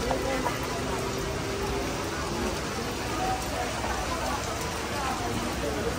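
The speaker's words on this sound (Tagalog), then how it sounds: "Ay, naulan, no? Inabot kami ng ulan." A steady hiss of rain falls continuously, even and moderately loud, with faint indistinct voices underneath.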